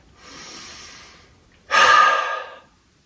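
A deep cleansing breath during a standing stress-relief exercise: a long, soft inhale through the nose, a brief pause, then a louder, forceful exhale through the mouth that trails off, close and alone.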